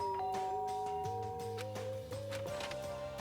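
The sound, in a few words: doorbell ringing in Danganronpa video game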